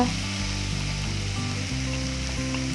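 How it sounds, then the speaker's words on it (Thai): Tomatoes stir-fried in a pan for a vegetarian northern Thai nam prik ong: steady, close sizzling with a faint hum and occasional low scraping, and no talk. "ส่มะเขือเทศเข้าไปแล้วก็ผัดต่อค่ะ"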